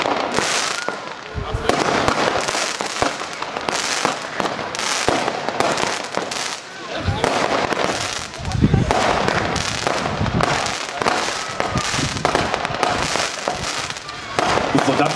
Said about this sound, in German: heißt diese 15-Schuss-Batterie mit fünffacher Verwandlung Alligator